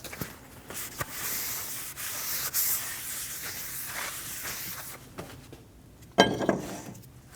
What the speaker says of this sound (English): We're going to go around and wipe the front and rear of the rotor, getting any of the assembly lube off.